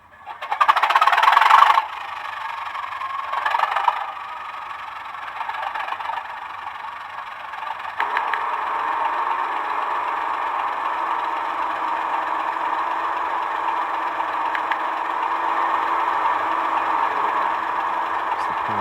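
A Class 37 diesel locomotive engine from a model sound decoder starts with a loud roar, drops to a rumbling idle, then revs up and holds a steady, droning throb with some squealing.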